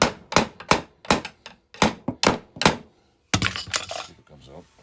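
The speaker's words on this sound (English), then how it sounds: "I like to take rubber hammers and see if I can pop the rest of it off here." Rubber hammers knock apart an old wooden chair at a roadside spot, a rapid series of about ten sharp, loud thuds in uneven bursts, a short pause, then softer clattering knocks of wood loosening.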